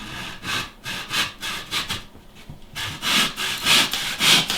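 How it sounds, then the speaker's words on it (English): A handsaw cuts through an aoudad taxidermy face form, taking an inch off; steady back-and-forth rasping strokes repeat close and loud, with a brief pause midway before the strokes resume. "you can take a saw or a sawzall and you can cut an inch out of the face."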